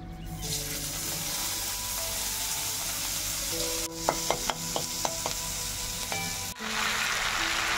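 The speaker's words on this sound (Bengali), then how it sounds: "এবার আমি এর মধ্যে দিয়ে দিচ্ছি কুচো করে নেওয়া পেঁয়াজগুলো" Chopped onions hitting hot oil spiced with garam masala in a Bengali fish curry preparation, a constant loud sizzle with a handful of clinking stirs partway through.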